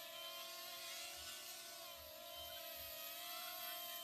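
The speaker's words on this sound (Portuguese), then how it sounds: "O drone tá voando aí por cima." A drone flies overhead above a rocky quarry at sunset, giving a steady high-pitched buzzing whine with faint low thumps underneath; constant and moderately loud, no talking.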